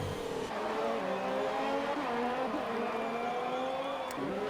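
A line of AI-driven race cars in a racing video game streams past, engines droning and whining steadily and loudly with slight pitch shifts, with no talking.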